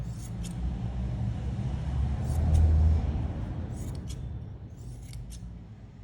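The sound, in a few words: scissors cutting fabric scraps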